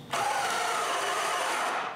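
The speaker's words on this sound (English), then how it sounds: "I begin by drilling a 1/2 inch hole into one 8x8" A Canadian Tire Maximum cordless drill bores a half-inch hole into an 8x8 wooden beam, a sudden loud whirring grind that starts abruptly and runs steadily for nearly two seconds before cutting off.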